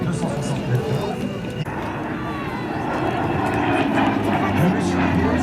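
Airplane flying at the Pontoise air show, piloted by a French aerobatic champion, a steady loud engine roar holding throughout with a commentator talking over it.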